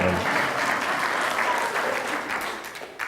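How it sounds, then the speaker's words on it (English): Audience applause at a talk, a dense spread of many hands clapping steadily for about three seconds, tapering slightly at the end. "Yeah, you can clap for that"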